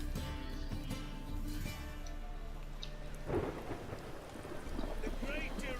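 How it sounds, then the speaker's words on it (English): Thunder rumbles through a rainy storm in The Witcher 3, low rolling booms over a steady patter of rain, with a voice talking quietly at times. "But a storm, huh? I don't remember hearing that before. Thunder?"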